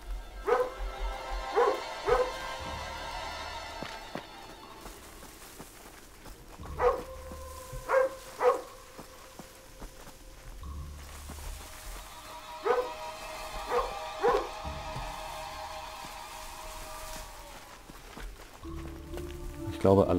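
A dog in the jungle of the PC video game Lost: Via Domus barks in three separate clusters of sharp yaps, each a quick double or triple burst, over a low background of game ambience.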